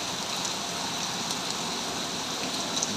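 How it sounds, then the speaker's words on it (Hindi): Heavy rain falls in Dubai, a dense, continuous hiss of downpour close by with no break throughout. "माशाल्लाह दुबई में आज बहुत ही अच्छी, बहुत ही ज़बरदस्त बारिश हो रही है।"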